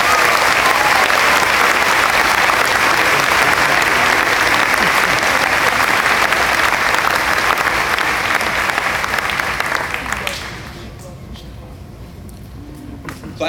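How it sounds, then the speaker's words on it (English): Loud round of applause from a crowd at the Dominion High School Class of 2017 graduation, dense even clapping that fades out after about ten seconds into quieter room noise. "Let's give them a round of applause as well."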